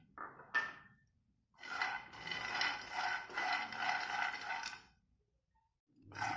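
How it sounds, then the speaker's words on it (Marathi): Peanuts roasted in a pan, heard as bursts of dry rattling and scraping as they are stirred and tossed, with a short clatter, a longer stretch of steady scraping, a quiet pause, and another burst at the end. "आता मी ते काढून घेते आणि शेंगदाणे भाजून घेते"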